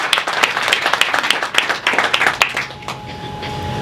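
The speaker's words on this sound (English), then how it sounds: "Let's give one big round of applause for our panelists here today." An audience at a Dodgers women-in-sports networking panel applauds the panelists, with a burst of close, sharp clapping that thins out and fades into quiet room tone near the end.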